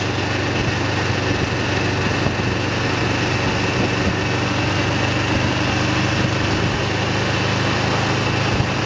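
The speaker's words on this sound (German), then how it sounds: "Außerdem dreht der Motor dann nicht so furchtbar niedrig." A motorcycle engine runs steadily at constant, fairly high revs, a close, loud drone that never lets up.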